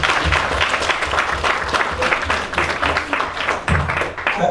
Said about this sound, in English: let's clap for him, please